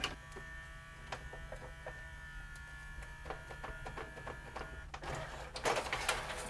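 A LaserDisc player's mechanism runs while the eject is forced, giving a faint steady motor whir with small clicks and ticks, then a louder burst of mechanical rattling near the end.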